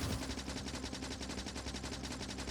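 Automated defence turrets in the factory-building game Factorio firing rapidly, a dense, unbroken rattle of shots that holds at a steady loudness throughout.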